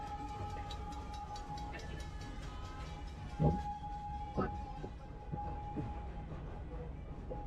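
An amusement park train rolls along its track at Busch Gardens in Tampa, Florida, in the rain, giving a steady low rumble with a sustained tone and a few louder clanks partway through.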